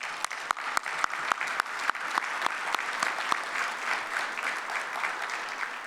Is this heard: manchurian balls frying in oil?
no